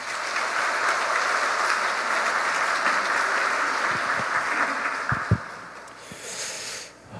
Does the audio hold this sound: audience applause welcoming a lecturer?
yes